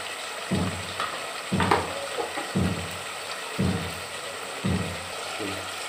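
Spices with turmeric powder fry in a pan for a chicken and turnip dish, a close steady sizzle punctuated by regular stirring strokes roughly once a second.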